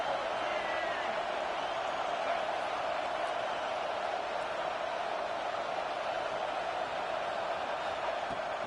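An Auburn football stadium crowd on third down, a distant, steady roar of many voices heard as faint broadcast background with no single cheer standing out.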